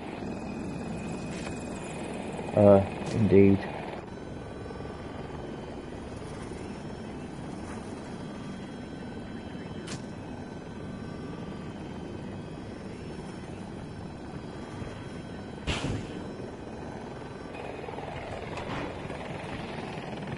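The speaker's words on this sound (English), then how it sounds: "I'm in a helicopter" A helicopter in the Battlefield 2042 video game gives a constant, droning rotor and engine roar throughout, with a few brief game effects and a short spoken word near the start.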